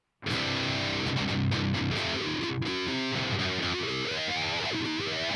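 An 80s Gibson Explorer electric guitar played through a wah pedal with heavy distortion gives a loud, sustained wailing tone that sweeps as the pedal moves. A few brief, choppy breaks interrupt it, and no one speaks.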